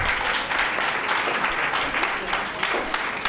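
A large audience claps in a dense, continuous round of applause that opens a session at the Biyani International Conference at Biyani College. The applause holds at an even volume from start to finish.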